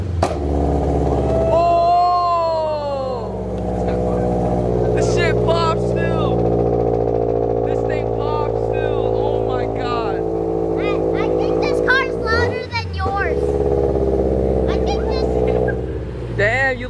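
A loud, rumbling exhaust on a widebody Toyota FRS drones steadily close by, with occasional pops, while people talk over it throughout.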